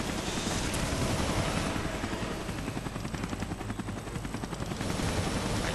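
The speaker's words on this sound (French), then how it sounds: "Doucement l'hélico, doucement." A helicopter in the Resident Evil Revelations video game roars loudly and steadily, its rotor beating in a rapid rhythmic chop that fills the whole moment without speech.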